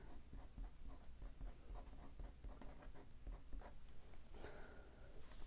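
A watercolor brush writes a word on paper with Yasutomo specialty watercolors, giving soft, steady scratchy brushing strokes close by, with no talking.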